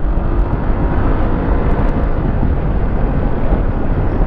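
An FKM Slick 150 motorcycle pulling hard under throttle, a loud, continuous roar mixed with heavy wind buffeting on the microphone, heard from the rider's position without talk.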